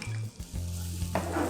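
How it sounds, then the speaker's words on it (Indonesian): Chopped onion and garlic frying in a couple of spoonfuls of hot margarine in a pan, a steady close sizzle with stirring clatter and scraping throughout, no talking. "ini kita tumis-tumis sampai dia harum"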